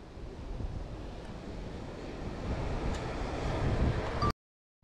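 Strong wind rumbles and buffets against the microphone in a steady, building roar at altitude above a London police headquarters, cutting off abruptly near the end.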